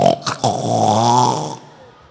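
A man imitates loud snoring with his voice, a long rasping, rumbling inhaled snore preceded by a couple of short snorts, close and loud before fading out.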